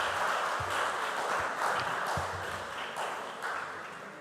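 An audience at a school quiz competition claps for a contestant, a moderate burst of applause swelling and easing in waves, with a few sharper thuds mixed in and no speech.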